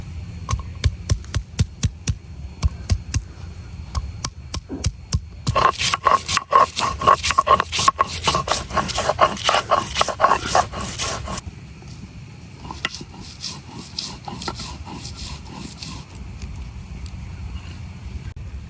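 Ginger and garlic are ground into a spice paste on a grinding stone: rhythmic scraping and knocking strokes repeat steadily, growing denser and louder in the middle before easing off, with no talk.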